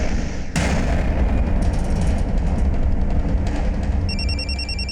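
A loud electronic phone ring starts abruptly over a dense rumbling background, followed near the end by a repeating warbling ring tone.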